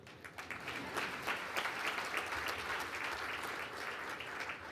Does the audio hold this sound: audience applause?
yes